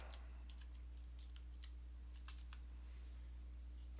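Computer keyboard keys tapped in a short, irregular run of soft close clicks while a password is entered, over a constant low electrical hum.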